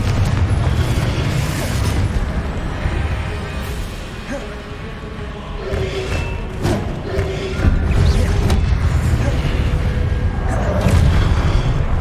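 The Confringo fire spell bursts in Hogwarts Legacy combat, giving several booming thuds and pops spread across a dense, loud battle din with rumbling low end and scattered sharp impacts.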